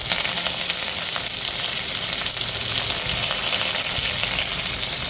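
Curry leaves, mustard seeds and cumin fry in hot oil in a kadhai on an induction cooktop, giving a loud, steady crackling sizzle with faint sputters and no talking.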